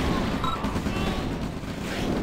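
Gunfire and explosions from a real-time strategy game match fill the clip as a dense, continuous barrage of overlapping shots and booms with no clear gaps.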